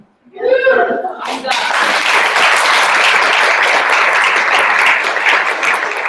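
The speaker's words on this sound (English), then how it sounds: "One more round of applause for our outreach." Audience at a company meeting breaking into sustained applause for the outreach team; a brief voice at the start gives way to loud, dense clapping that continues evenly to the end.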